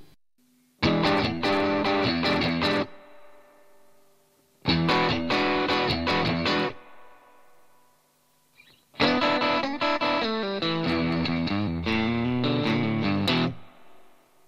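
An electric guitar runs through a small Carvin Vintage 16 tube amp with reverb added. Three loud, distorted phrases are each separated by a pause in which the reverb tail rings out.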